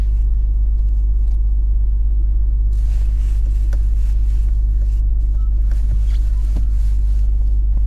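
A 2022 Acura TLX Type S with a 10-speed automatic accelerating hard, heard from inside the cabin as a loud, steady low engine drone with rising road and wind noise, no talk.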